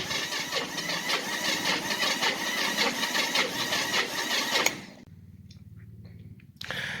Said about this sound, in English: We'll see if we can get this old Kawasaki to start.